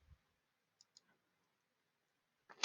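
A computer mouse is clicked several times: two faint, separate clicks, then a louder cluster of clicks at the end, with near silence between.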